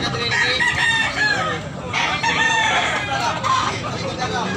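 Chickens and roosters at a poultry market in Tabunok, Talisay, Cebu, with roosters crowing and hens clucking close by over a murmur of background crowd voices.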